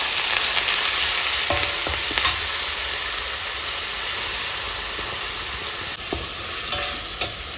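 A ground spice paste for prawn thokku tipped into hot oil and stirred, a loud continuous hissing sizzle with occasional scraping strokes and clinks of the spoon against the pan.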